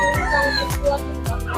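Roosters, including fighting cocks, and other fowl crowing and clucking repeatedly amid a busy, noisy outdoor pet market in Bocaue, with a dog barking faintly and voices in the background.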